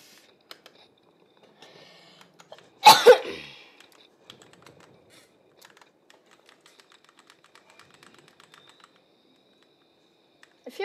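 Typing on a computer keyboard in a gaming setup, sparse light key clicks scattered across the stretch with a loud cough-like burst early on, otherwise quiet between taps.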